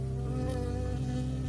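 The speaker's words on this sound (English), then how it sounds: "I got stung by a bee." A bee buzzes steadily and close in the video game Firewatch, a continuous droning hum that holds for the whole moment just before it stings, with no voices.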